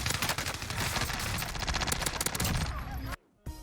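Rapid automatic gunfire in Call of Duty Warzone, a dense burst of loud shots lasting about three seconds before cutting abruptly to near silence, then a faint tail.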